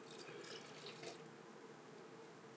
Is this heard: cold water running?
yes